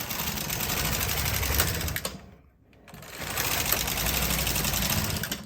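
A knitting machine carriage is pushed back and forth across the needle bed, giving a steady, loud mechanical whirring rattle that briefly stops in the middle at the turn before resuming, close up with no talk.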